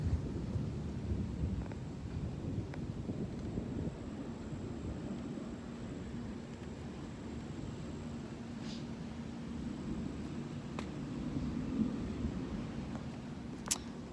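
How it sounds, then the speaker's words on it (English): Rain falls outdoors as a steady, faint hiss with a low rumble underneath and a few scattered sharp ticks of drops, with no voices. "It's starting to rain."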